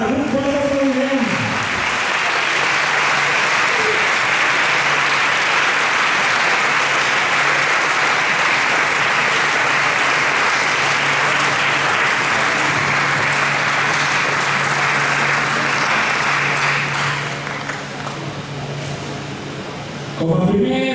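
Crowd applause fills a ceremony proclaiming the pubilles and hereus of Navàs, a loud continuous roar of clapping that keeps up for most of the stretch, eases off near the end, and has a voice at the start and again as it closes.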